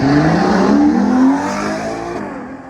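A classic one-off supercar with chrome exhausts, configured for Stirling Moss and seen at Le Mans Classic, arrives with a loud, close engine revving up in a rising tone that then settles and eases, no voices heard.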